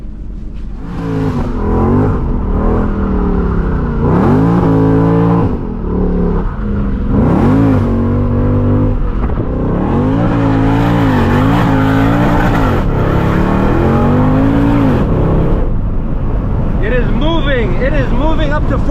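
A Stage 3 Weistec-supercharged Mercedes CLK 63 AMG Black Series accelerating hard, the engine note rising in repeated sweeps and dropping at each gear change, loud and close with supercharger whine, while people talk over it.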